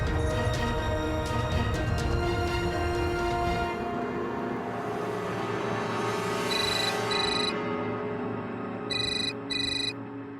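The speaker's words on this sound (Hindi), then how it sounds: "कोमल जी भी फोन नहीं उठा रही।" A telephone rings on and on with no answer, its electronic tone sitting over a dense bed of music; short bright ringtone bursts come through clearly near the end.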